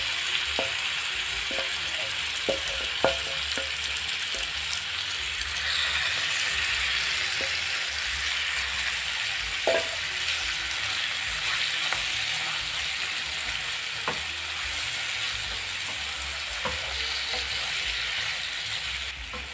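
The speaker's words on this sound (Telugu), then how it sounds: "దీంట్లోకి ఇప్పుడు మనం మ్యారినేట్ చేసి పెట్టుకున్న చికెన్ వేసుకుందాం." Marinated chicken sizzles steadily in a pan over fried onions, a continuous close frying hiss broken by occasional clinks and scrapes of a spoon stirring, with no voices.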